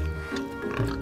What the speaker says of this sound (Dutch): de varkens staan lekker te eten